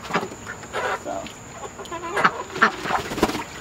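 Chickens, roosters and hens, cluck and squawk in short bursts at moderate distance, several calls scattered over a faint background hum.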